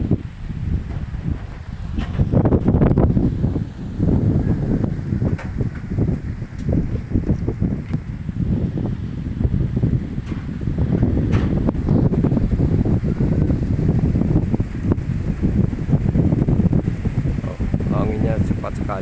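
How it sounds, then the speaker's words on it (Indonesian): Strong, fast wind roars through trees in gusty, continuous rushes, loud and close to the microphone, with buffeting and a voice speaking at times over it. "Anginnya cepat sekali, besar sekali ke pohon-pohon."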